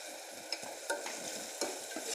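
Ginger garlic paste sizzles in hot oil with softened tomato for a vegetable biryani, and a spoon scrapes and stirs it through the pan in several quick strokes over the steady frying, with no talking.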